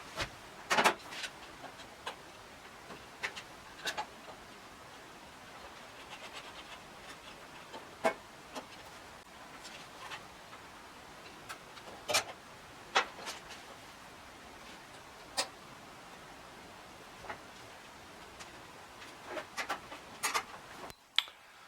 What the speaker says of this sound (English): There's the fuel pedal. We're going to reinstall it now.